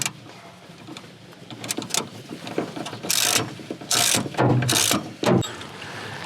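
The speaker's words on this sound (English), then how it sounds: "get my 11 millimeter. Tighten that ground wire down." Ratchet with an 11 mm socket tightening a car ground wire bolt during windshield wiper motor work, several close bursts of rapid clicking separated by short pauses and light handling noise.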